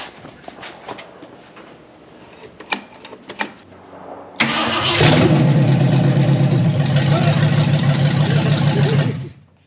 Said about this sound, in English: we gotta fire it up straight headers. It's probably gonna sound like a big old pickup truck